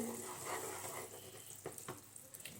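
Jaggery syrup bubbles at a boil as ground peanuts with their skins go in, a soft hissing, watery bubbling with a few small knocks, close and fairly quiet.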